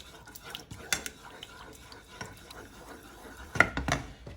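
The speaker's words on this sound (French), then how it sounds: "On mélange pendant quelques minutes." A spoon stirs a pizza dough mixture with milk in a bowl for a stovetop pizza made without an oven or cheese, giving soft scraping swirls and scattered light clinks that grow a little louder near the end.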